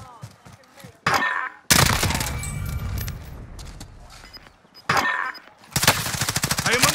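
Call of Duty Warzone gunfire crackles in loud bursts of rapid automatic shots, separated by quieter gaps, with a close, sharp attack and some metallic clatter; a voice is heard faintly beneath.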